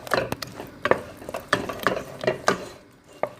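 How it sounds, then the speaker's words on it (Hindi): Bombay halwa with nuts is stirred in a pan, giving soft sticky scrapes and clinks of a spoon against metal in an uneven rhythm, fairly faint and close, with no talking. "सारे मेवे हम इसमें डाल देंगे और इसको अच्छी तरह से मिक्स कर लेंगे।"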